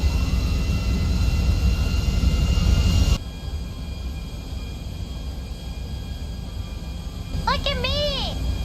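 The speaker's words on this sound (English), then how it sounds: "Look at me. I'm flying a plane." Airplane engine in flight during an animated hijacking scene: a loud, steady roar fills the first three seconds, then drops to a quieter background hum, with a short high voice-like sound near the end.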